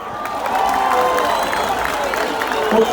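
An event crowd cheers and claps for Zungu, a dense wash of applause and shouting voices with whoops rising above it, fairly loud and sustained.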